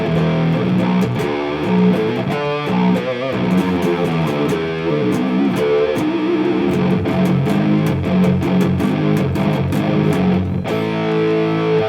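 An electric guitar played through a distortion pedal into a vintage Marshall 1987X amp emulation grinds out heavy, saturated chugging rhythm riffs with sharp palm-muted stops and sustained chords, loud and alone.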